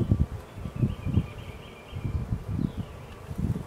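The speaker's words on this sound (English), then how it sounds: "And we'll just dump those bees in front of the hive." Honey bees are shaken out in front of a hive in a tree rescue, giving a close, faint, steady buzzing drone. Soft rustling thumps come at intervals underneath.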